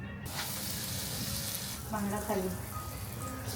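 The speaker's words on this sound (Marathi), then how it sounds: "हे फ्राय करायसाठी तयार केलं आहे मिश्रण फ्राय करतोय आपण आता" Mackerel coated in rava and rice flour sizzles in hot oil on a tava, a steady close crackle with brief clinks and scraping, fairly quiet throughout.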